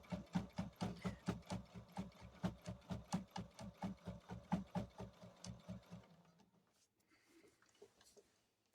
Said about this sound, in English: So the machine is actually pulling the fabric.